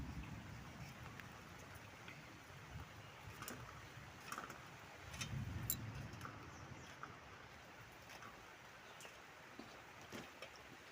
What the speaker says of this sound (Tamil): மழை கொஞ்சம் நிறையாவே வர ஆரம்பிச்சிருச்சு.